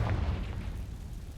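A deep, booming blast from the Confringo fire spell in Hogwarts Legacy, a loud low rumble that starts strong and slowly decays over a second and a half, with no talk.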